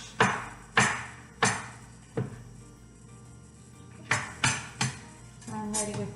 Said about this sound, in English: So here I'm chopping up the mushrooms.